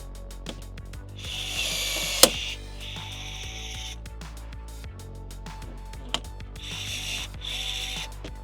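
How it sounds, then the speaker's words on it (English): A power rivet gun sets rivets into aluminum in a horse trailer, firing in rapid ratcheting bursts with sharp snaps between short pauses, close and loud, with no talking. "If you're still using a manual rivet gun, get you one of these"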